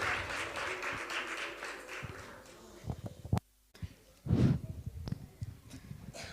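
An audience at a Balika Mandal session of a religious camp (shibir) applauds young girls who recited an aarti. The faint, dense clapping fades out, leaving scattered taps and a little background talk.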